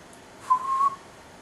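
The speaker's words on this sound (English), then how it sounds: "just when the whistle blew" A steam train whistle in a children's railway story gives a single short, steady tone, fairly clear and moderately loud, over a quiet background with no talk.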